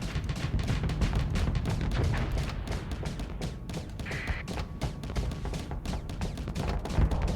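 Rockets fired by enemies in a mech combat video game: a continuous loud barrage of overlapping launches, impacts and rattling gunfire, with booms that come close together.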